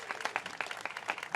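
Outdoor groundbreaking crowd in San Francisco applauding Ray Spannon, a modest scattering of hands with distinct individual claps, somewhat faint and brief.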